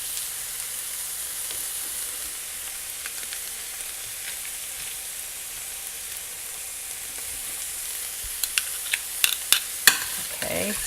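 Five garlic cloves fry in a pan with a soft steady sizzle, then near the end a run of quick spatula scrapes and clicks as the garlic is stirred, close and without talk.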